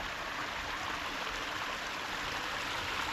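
Water from a garden pond biofalls pours in a steady, soft, even rush of splashing flow that stays constant and fairly quiet throughout.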